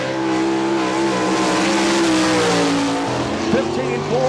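Sprint cars roar around Barberville speedway in Florida during an All Star Circuit of Champions Speedweek race, loud sustained engine drone with rising and falling pitch as cars pass, under continuous announcer talk.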